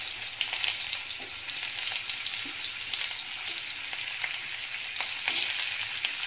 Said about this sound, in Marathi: तेल गरम झाल्यानंतर कंटोळी आहे ती टाकून घेणार आहे